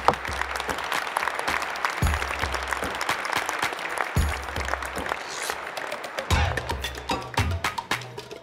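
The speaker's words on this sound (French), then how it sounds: "je pense que vous pouvez vous applaudir" Sustained audience applause in a hall at a French sustainable-mobility challenge awards event, dense and steady for several seconds with occasional louder claps and low thumps.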